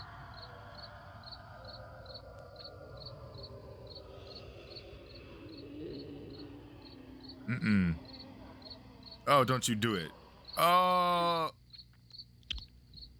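Crickets chirp in a steady, evenly spaced pulse through a movie scene, continuing while people speak briefly in a few loud bursts over it.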